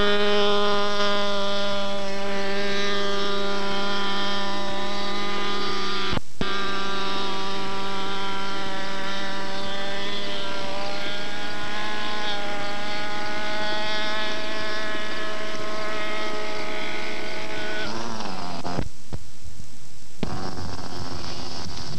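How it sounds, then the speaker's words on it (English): A super fast, aerobatic little model airplane's engine whines loud and continuous, its pitch shifting as it maneuvers, with a brief sharp cut near the middle and a sudden drop-out before the end. "This is a super fast, super aerobatic little model airplane."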